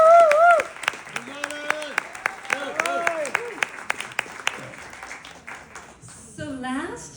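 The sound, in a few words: audience applause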